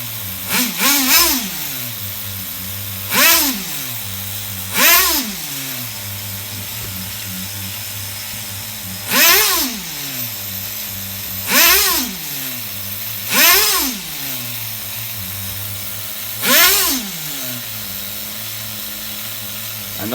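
An HPI RS4 Nitro F150 RC car's nitro engine idles loudly close by, buzzing steadily and rising into repeated short revs, roughly every two seconds, each dropping back to idle.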